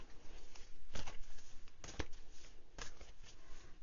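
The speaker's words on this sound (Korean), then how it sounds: "좋은 카드 하나만 뽑아볼게요" Tarot cards shuffled and drawn near at hand, giving soft papery rustles with a few sharper slaps, and no voices.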